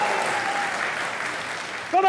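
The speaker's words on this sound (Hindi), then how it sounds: "तालियां लूटो" Studio audience applause on a Pakistani talk show, a steady, moderately distant wash of clapping that runs for about two seconds before a voice cuts in at the end.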